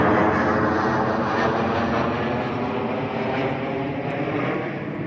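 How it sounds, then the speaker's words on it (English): A steady, broad roar of an airplane overhead, loud and continuous, slowly fading slightly with no voices. "Listen to the airplane as it takes its flight to get people to a safe destination."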